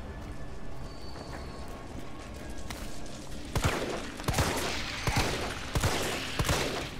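Gunfire in Resident Evil 3 (2020): a steady series of sharp shots, about one every half second, ringing out loud over a dull, noisy background.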